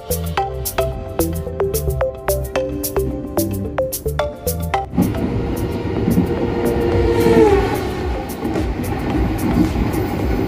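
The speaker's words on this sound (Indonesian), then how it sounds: "Pada pukul 12:25 kereta api Erlangga yang saya naiki diberangkatkan dari stasiun Surabaya Pasar Turi" The KA Airlangga passenger train pulls out of Surabaya Pasar Turi station, first with rhythmic clanking and ringing tones, then a broad, steady rumble of rolling wagons building as it gets under way.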